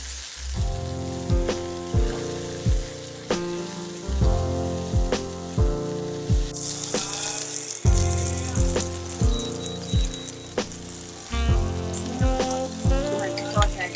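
Sweet corn sizzles and crackles in a hot pan that already holds fried mushrooms, a steady fizzing hiss broken by regular rhythmic thuds over a sustained musical tone.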